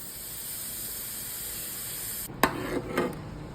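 A pressure cooker cooking moong dal hisses with a steady steam release, then cuts off abruptly and gives a few rattling clanks as it settles.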